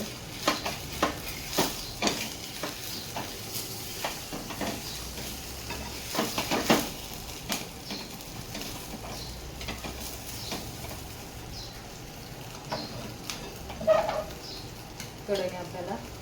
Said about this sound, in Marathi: चला, आता मी पराठ्याला सुरुवात करत आहे.